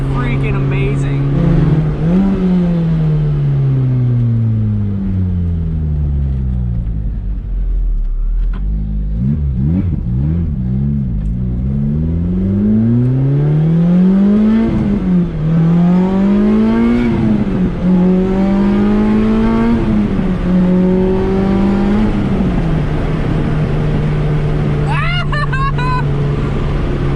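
A Lotus Exige with an Inokinetic/Sector111 exhaust and upgraded motor mounts revs up and down repeatedly, its engine note rising and falling in a steady, loud, close stream with no pause between pulls.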